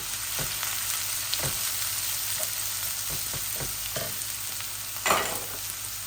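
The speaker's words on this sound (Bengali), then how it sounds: "তেল গরম হয়ে গেছিল প্রথমেই একটা আনিয়ন দিয়ে দিচ্ছি" Onion frying in hot oil gives a continuous close sizzle with scattered soft clicks of stirring and one louder clatter near the end, no one speaking.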